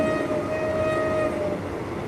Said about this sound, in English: blow the horn